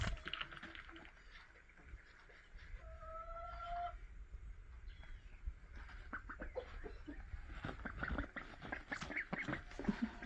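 Ducks and chickens call in a yard where a flock of ducks is being met by other birds, with scattered quacks and clucks, a rooster-like call, faint and somewhat distant over low rustling background.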